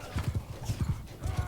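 Galloping horse hooves in the video game Bannerlord, a rapid repeating clip-clop rhythm of strong, close hoofbeats with a brief whinny-like tone, running steadily throughout.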